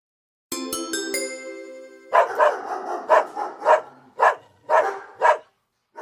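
A chiming ding-dong tone opens, then a dog barks repeatedly in short, loud, evenly spaced bursts, close by with no talking.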